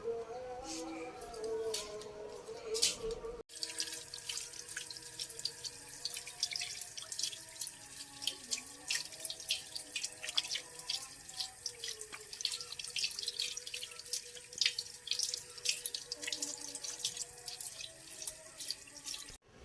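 Running tap water splashes over hands as henna is washed off at an outdoor village sink, a steady close trickle with scattered drips, preceded by a brief moment of other sound before the flow starts.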